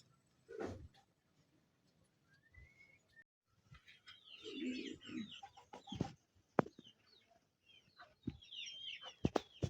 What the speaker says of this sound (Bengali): মুরগি, তুই ডিম পাড়তে বসছিস এখানে?